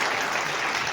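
Audience applause at a political gathering in Jharkhand, heard as a dense, steady patter of many hands clapping that stays moderately loud for the whole second.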